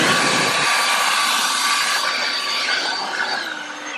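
An EGO 56V cordless electric blower blows debris off a mower with a loud, steady rush of air and a high whine that eases slightly toward the end.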